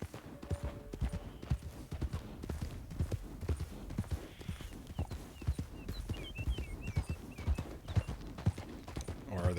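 Horses trotting in the Red Dead Redemption 2 video game, hooves clip-clopping in a steady rhythm, with a faint whinny and brief chirps over the continuous hoofbeats.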